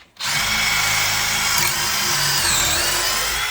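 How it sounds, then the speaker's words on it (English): A power drill whines loudly and steadily after a brief pause, its pitch wavering slightly as it bores a hole through wood, with no voices. "I'm just drilling a hole"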